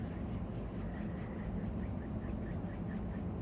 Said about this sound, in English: rub your hands together for a few seconds